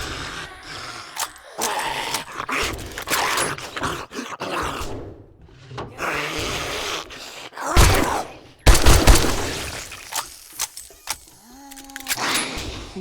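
Gunfire in the survival game 7 Days to Die: scattered sharp shots and short bursts crack out irregularly over a low background, a few louder reports standing out near the end.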